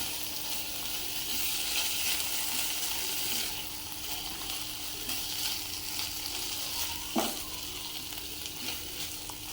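Chicken, about 200 grams, frying in a pan with a little chopped onion: a steady broadband sizzle runs throughout, close and moderately loud, with occasional stirring scrapes and one sharper clatter near the end.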